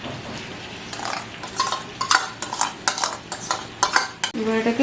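Chicken masala with tomato paste, cashew and poppy seed paste being stirred and sautéed in a pan, a spoon scraping and clinking in repeated bursts with faint sizzling, a voice speaking briefly over it.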